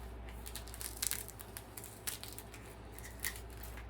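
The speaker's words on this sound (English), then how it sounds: "Gonna need some scissors for that. Alright, let's cut." Scissors snip through an e-bike tire liner for a 20-inch wheel, making a few quiet crisp cuts spaced about a second apart over a low steady background hum.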